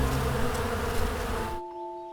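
Dense, close buzzing of honey bees clustered on a hive frame, steady and fairly loud, then dropping away abruptly to a faint hum with a lingering high tone.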